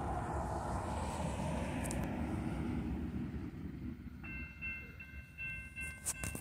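A BNSF freight train with five engines passes close by, a steady loud rumble of wagons on rails running throughout and easing slightly toward the end, with brief high squeals near the finish.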